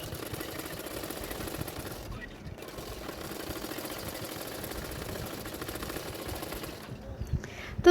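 A sewing machine stitching the side seams of a blouse: a rapid mechanical rattling hum that runs steadily, pauses briefly twice, then resumes, fairly close at moderate volume.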